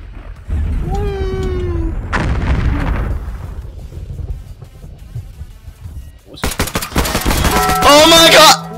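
Gunfire in Garry's Mod: loud bursts of rapid shots and booming fire in two stretches, with tonal meow-like game sounds and a voice mixed in between.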